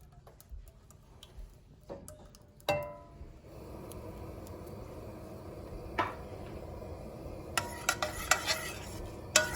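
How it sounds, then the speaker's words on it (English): A spoon stirs crushed tomatoes with garlic, chili flakes and oil into an arrabbiata sauce, with clinking taps against the pan over a soft steady simmer. "Get all those spices mixed in, the garlic, the chili flakes, can emulsify the oil."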